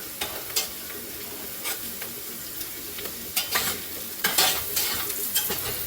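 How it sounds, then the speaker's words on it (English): Garlic and onions sizzle in a hot pan as a spoon stirs them, giving a steady frying hiss broken by irregular scraping and clinking strokes, up close with no voices. "You want to give it a stir, because you don't want the garlic and the onions to really burn"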